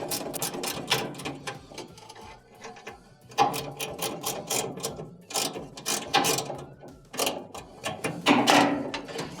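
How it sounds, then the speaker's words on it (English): A small ratchet tightens bolts during a GE dryer repair, giving bursts of quick, close, clicking pawl ratchet strokes separated by short pauses, with no voices. "tighten them up with this little ratchet"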